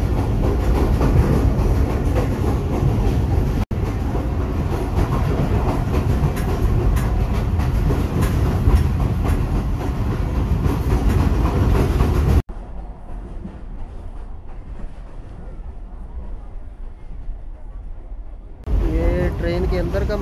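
Inside the Kohat Express passenger train on the Rawalpindi line, a loud continuous rumble and clatter of wheels on rails fills the car, dropping abruptly quieter for several seconds before the roar returns.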